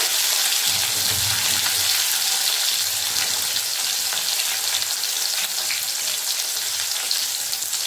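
Chopped red tomato pieces drop into a hot frying pan with cumin-tempered oil, giving a steady, close, loud sizzle and crackle that runs throughout with faint stirring and no talk.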